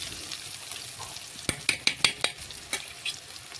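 Salt being stirred into food frying in a pan for a Bengali chicken dish: a soft sizzle underneath, then a run of about six sharp spatula scrapes and taps against the pan, close and fairly loud.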